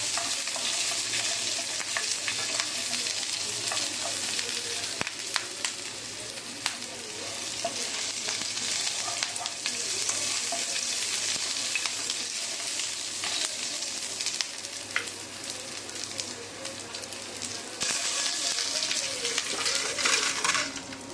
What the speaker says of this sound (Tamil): எல்லாமே கொஞ்சம் எண்ணெயில் நல்லா பச்சை வாடை போகிற வரைக்கும் கலரி கொடுக்கணும்.